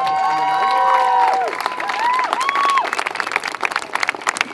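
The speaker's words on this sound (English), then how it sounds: "Another big round of applause for Samaya" A crowd at a community gathering breaks into applause and cheering, dense clapping rising under a voice that trails off at the start, steady and fairly close.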